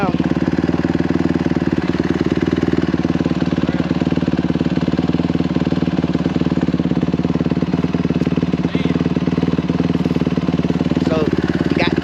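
A dirt bike engine idles with a steady, loud, buzzing putter, close to the microphone and continuous throughout, with a few faint knocks and a voice briefly heard underneath.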